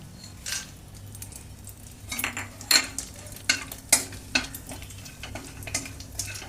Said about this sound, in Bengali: এবার আমি তেলের মধ্যে দেব গোটা গরম মশলা